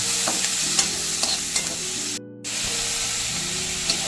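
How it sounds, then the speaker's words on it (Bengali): Vegetables for a homemade pizza topping, seasoned with chili powder, sizzle and hiss steadily in a hot pan with occasional stirring scrapes and a brief break in the sound midway. "এটাকে স্মোক করে নিচ্ছি স্মোক না করলে ভেজিটেবল ভালো লাগবে না"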